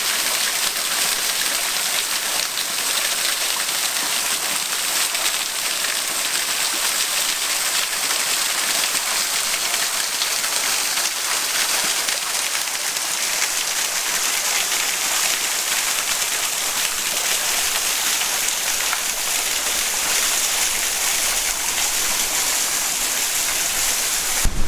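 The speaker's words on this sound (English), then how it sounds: "it's a real waterfall!" Small waterfall in the Moscow region, with a little spring running below it: a steady, close, full-bodied rush of falling water that hardly changes across the whole stretch, with no talking.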